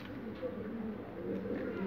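Low, rolling coos from pigeons continue steadily at close range over a soft background murmur.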